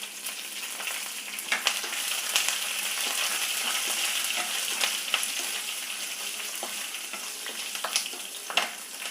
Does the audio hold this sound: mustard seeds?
yes